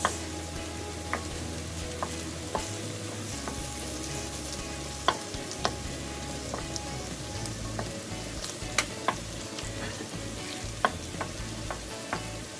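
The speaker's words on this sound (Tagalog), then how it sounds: "maglalagay na tayo ng butter. Para magisa na natin yung ating bawang at saka sibuyas" Butter sizzling and frying in a pan before garlic and onion go in, a steady close crackling hiss with scattered sharp pops and occasional stirring scrapes, no talking.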